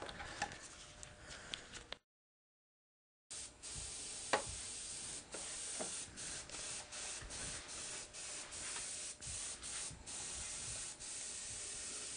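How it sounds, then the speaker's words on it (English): Bursts of aerosol spray tack adhesive hiss close up, a steady spray cut by a brief silence, then more spraying with small ticks and clicks. "She had sprayed that with spray tack"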